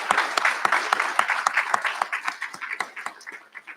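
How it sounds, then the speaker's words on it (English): A ceremony audience claps in a round of applause, dense and close, with sharp individual claps standing out and the clapping thinning slightly toward the end. "I just want to ask you to give a final round of applause to those folks"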